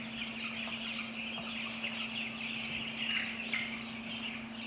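Cornish Cross meat chickens clucking in a flock at two weeks old, a continuous murmur of soft chirps and clucks over a steady electrical hum, fairly quiet and close.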